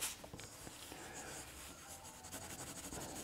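Pencil drawing on a sheet of paper, a faint, steady scratching and rubbing of graphite close up, with light irregular strokes throughout.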